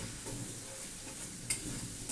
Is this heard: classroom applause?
no